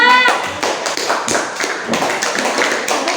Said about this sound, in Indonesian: Kasih tepuk tangan untuk kelompok 2